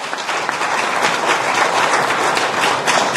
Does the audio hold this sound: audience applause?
yes